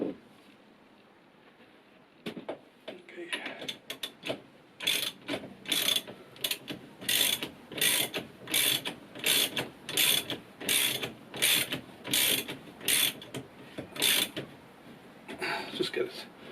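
Honda Shadow motorcycle fork cap being screwed into the fork tube by hand, a close, steady run of rhythmic ratcheting clicks in regular bursts, loud and continuous with brief pauses.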